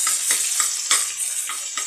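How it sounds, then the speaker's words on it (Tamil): Onions frying on a high flame for country chicken biryani give a steady bright sizzle, broken by a few soft stirring scrapes at regular intervals. "ஸோ நல்லா ஹை ஃப்ளேமில் உங்களுக்கு வெங்காயம் வணங்கிட்டு இருக்கு"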